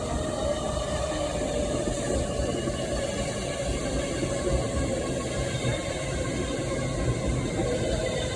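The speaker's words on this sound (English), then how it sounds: "1415 Avant West Coast service from London Euston to Birmingham New Street." An Avanti West Coast passenger train rumbles steadily through Rugby station on the West Coast Main Line, its loud, continuous roar carrying rattling and clanking of wheels and cars.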